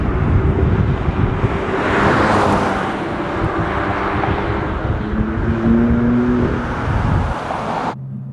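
A BMW F80 M4 with a turbocharged engine drones in a steady, gravelly tone that swells and eases slightly as it drives, ending with an abrupt drop to a quieter idle.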